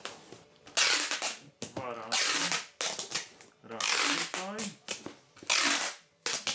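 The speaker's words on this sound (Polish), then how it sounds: "przeciągnąć dwa razy tą taśmę, żeby się nam trzymała" Several loud, raspy tearing bursts of packing tape being pulled and pressed onto a cardboard box, mixed with a voice speaking Polish in between.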